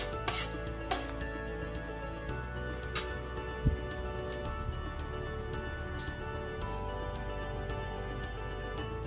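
Lentils frying and browning in hot oil in a pan, a steady close sizzle with occasional light clinks and scrapes of stirring, no voices.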